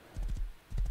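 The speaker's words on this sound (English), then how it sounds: "That's my running horse." Rapid hoofbeats from a galloping horse in the video game Rust, two quick bursts of clip-clop rhythm separated by a short pause, fairly quiet and close.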